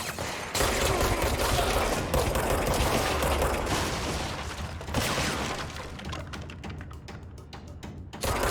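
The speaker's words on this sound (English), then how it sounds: "they're shooting for me from the ground" Enemy fire from below rattles almost nonstop in the game Control. The loud, dense bursts hold steady for several seconds, then thin into scattered shots before picking up again.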